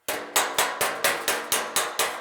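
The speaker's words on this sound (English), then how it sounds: "You can hear the sound of the metal change when your metal is right up against the dolly" Nine sharp, evenly spaced hammer blows on sheet metal held against a dolly, each ringing briefly before the next, a steady loud rhythm close up.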